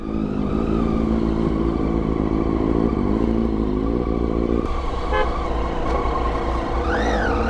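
A motorcycle rides on the ECR highway toward Chennai in hot weather, its engine a loud continuous drone with shifting pitch and wind rush. A horn toots near the end.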